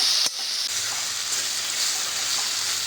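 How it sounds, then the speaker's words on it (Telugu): Okra and tomato pieces frying in a pan, giving a steady, close, even sizzle with a brief stirring clatter near the start and no talking. "వీటన్నిటిని కలిపి ఒక ఐదు నిమిషాలు అలా వేయించుదాం"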